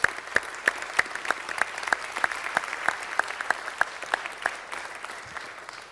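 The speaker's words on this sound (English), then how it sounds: "Let's get a round of applause" A small group claps at a Los Angeles city council meeting honoring Jackie Robinson Day, sharp individual claps in a steady, fairly sparse rhythm, moderately loud and without talk.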